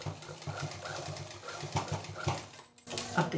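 Domestic sewing machine stitching along a drawn line on fabric for a handmade sling bag, a steady close mechanical whirring hum with rhythmic needle chatter, briefly pausing near the end before running again.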